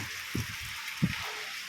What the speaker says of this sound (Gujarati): વરસાદ તોફાની બેટિંગ સાથે તમે જોઈ શકો છો